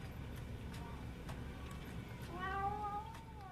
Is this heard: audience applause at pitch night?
no